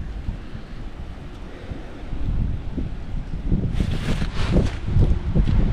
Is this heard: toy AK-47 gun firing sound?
no